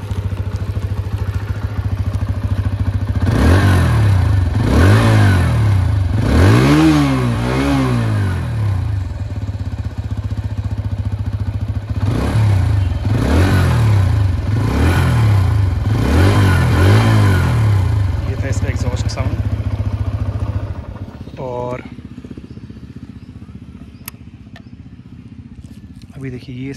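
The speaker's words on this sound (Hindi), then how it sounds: "अब मैं आपको इसका एग्जॉस्ट साउंड सुनाता हूँ।" A 2023 TVS Apache RTR 160 2V BS6 motorcycle revs its exhaust while parked on the side stand, rising and falling in several throttle blips over a steady idle, then dropping away near the end.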